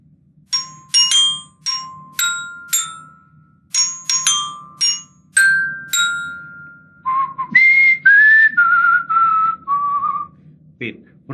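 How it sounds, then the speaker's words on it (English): A person whistling a series of short, clear, bright notes in separate bursts, followed by a run of longer sliding pitches, close and solo over a faint low hum. "I just whistled, right?"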